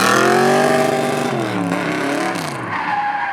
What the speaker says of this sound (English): racing up and down the West Taxiway on one of our custom supercars